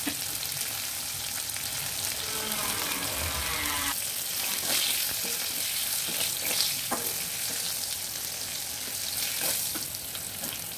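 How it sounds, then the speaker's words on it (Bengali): Pointed gourd (potol) frying in a wok with panch phoron, a strong steady sizzle up close with intermittent scraping and stirring clatter. "পটলগুলো আমি একটু লাল লাল করে ভেজে নেব"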